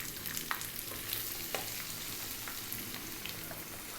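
Onion frying in hot oil with curry leaves for a restaurant-style mattar paneer, a soft, steady sizzle and crackle with a few faint pops, heard alone and fairly quiet.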